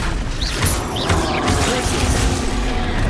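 Confringo fire spell cast in the game Hogwarts Legacy, a dense crackling blast with whooshing magical swirls and mechanical clatter that runs steadily, loud and close.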